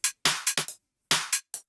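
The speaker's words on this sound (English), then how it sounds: "Here we've got the hats." Hi-hat drum samples in a bassline dance track play alone as a sparse pattern of crisp, bright hits, some short and some slightly longer, closely spaced in groups.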